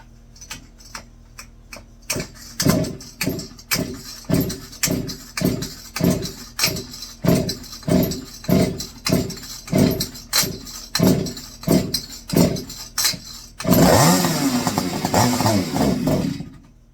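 McCulloch BP1 small engine being cranked over repeatedly in a steady pulling rhythm, each stroke a sharp chuff, before it briefly catches and runs rough and loud near the end.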